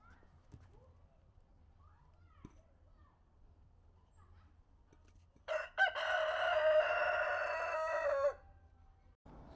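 A rooster crows loudly from nearby on Kok Tobe hill in Almaty, Kazakhstan, one long drawn-out call that rises and holds for a few seconds before it breaks off, with quiet outdoor ambience before it.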